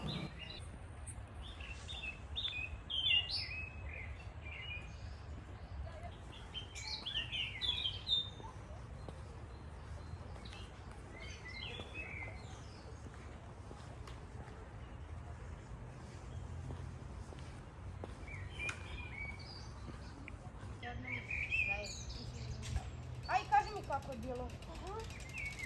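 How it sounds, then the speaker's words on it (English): Birds chirp and call intermittently in a forest by the Danube near Novi Sad, some notes bright and close, others distant, over a soft steady outdoor ambience. "It almost feels like we are walking in the forest with all the birdsong echoing around us."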